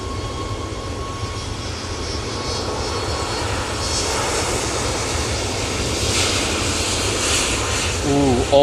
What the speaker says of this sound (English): this Ryanair in front of us is off to Barcelona using the 737 MAX 8